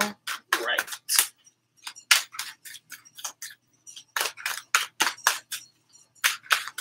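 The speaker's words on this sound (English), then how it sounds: "we're going to shuffle up." Tarot cards are shuffled in quick, crisp bursts of riffling and snapping, close and fairly quiet, with short gaps between the flurries and no talking.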